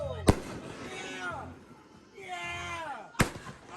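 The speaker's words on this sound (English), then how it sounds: "We got the neighbors over there watching our fireworks." Backyard Fourth of July fireworks go off with two sharp, loud bangs a few seconds apart, while excited voices shout and talk between the blasts.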